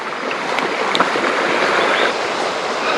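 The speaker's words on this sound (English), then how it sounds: "I can hear the water running." A stream runs among lush vegetation on a backpacking trail at Point Reyes. Water rushes in a loud, steady broadband flow that fills the whole moment, with no voices over it.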